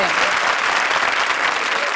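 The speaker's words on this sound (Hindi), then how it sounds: "तालियां" Dense, steady applause from a studio audience on a comedy stage show, loud and sustained throughout with no break.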